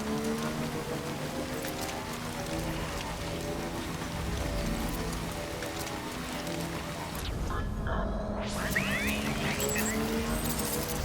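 Steady rain pours throughout a Death Stranding game scene, a continuous hiss blended with low rumbling and a music-like tonal bed, with a brief drop in the highs partway before the downpour returns.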